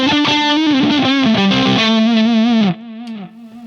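Electric guitar driven through an overdrive pedal stacked with an ODR1 drive, playing a busy, saturated phrase that stops abruptly near the end, leaving a softer sustained note ringing out alone.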